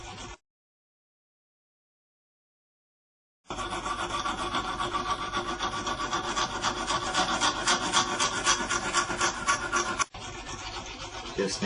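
A hand file is drawn over a knife blade to sharpen it, making steady rhythmic rasping strokes, close and loud. The strokes run continuously for about eight seconds after a short scrape and a silent gap, with a brief break near the end.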